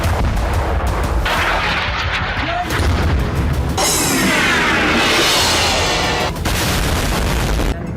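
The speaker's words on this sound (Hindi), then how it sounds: "लेबनान में भीषण बमबारी जारी है।" Heavy bombardment in Lebanon, with dense, continuous rumbling booms and blasts rolling one after another, loud and close, forming a sustained barrage with no pauses and no talk.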